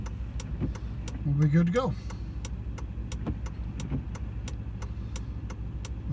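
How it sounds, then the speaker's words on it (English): A 2018 Peterbilt 389 truck backing into a driveway, its steady low diesel idle rumbling throughout with a faint ticking pulse, while someone speaks briefly over it. "now we're going to back her back in the driveway"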